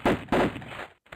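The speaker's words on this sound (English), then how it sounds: "Let me see if I get the sound of the gunshots." Gunshots fire in a Sega Saturn video game, two heavy booming blasts in quick succession followed by a fading tail and a brief gap of silence.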